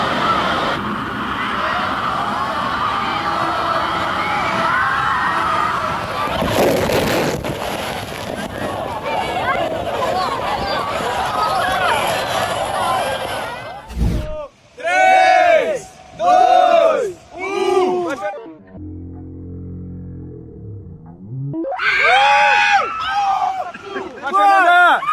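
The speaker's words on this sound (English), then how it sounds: "The waves are so strong they knock people over and make them scream from fear and excitement all at once." Crowds of people scream and shout at a South Korean water park as strong waves knock them over, loud dense yelling at first, then bursts of high shrieks in separate waves with short gaps between them.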